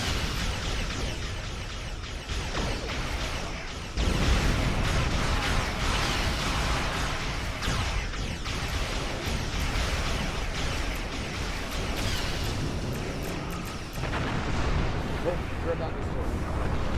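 A Dominion dreadnought is destroyed in Star Trek Online, heard as heavy rumbling blasts with sharp booms near four and fourteen seconds over continuous battle noise, loud and dense throughout.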